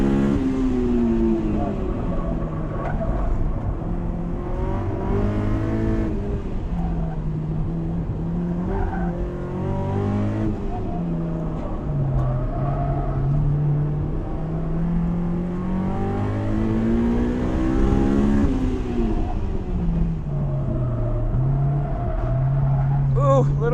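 A Honda S2000 on a race track revs hard into VTEC, its engine note climbing and falling repeatedly through gear changes, loud and close with faint tyre noise underneath.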